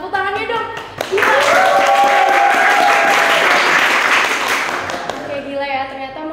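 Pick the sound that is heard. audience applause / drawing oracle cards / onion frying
audience applause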